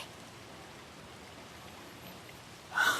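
Heavy video-game rain pours down in a steady, dense hiss with no pauses, ending in a brief louder bright burst.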